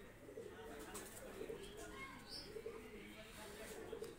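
A pair of Salotica Magar pigeons coo softly in low repeated throaty phrases, faint and close against quiet background noise, while someone talks over them.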